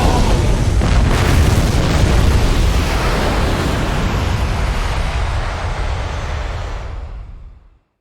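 Plane crash landing in the Bullet Witch video game, a loud, long roaring rumble of impact and grinding that fades away over several seconds, with no talking.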